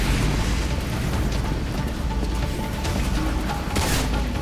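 Rocket explosion in the video game Bulletstorm, a dense continuous roar of blasts and gunfire-like bursts filling the whole span with a sharper burst near the end, loud and close with no talk.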